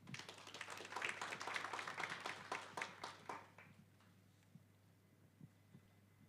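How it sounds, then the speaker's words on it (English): Audience applause welcoming a speaker at an education event, a burst of many hands clapping that fades after about three seconds into a few scattered claps over a low steady hum. "Let's welcome him with a round of applause."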